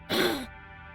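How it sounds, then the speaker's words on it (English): A single short cough from a man in the Umineko When They Cry visual novel, a clear, close burst lasting under half a second, alone against a faint steady hum. "let out a single cough when he realized he was being called"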